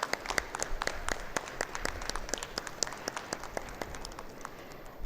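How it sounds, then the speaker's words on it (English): A conference audience at an Indian textile industry event claps steadily, a sustained round of applause at moderate level with sharp individual hand claps standing out. "Let's have a huge round of applause"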